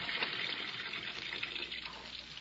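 Water pours steadily from a tap into a bathtub, a continuous close rushing splash with no pauses, used as a sound effect in an old-time radio mystery drama.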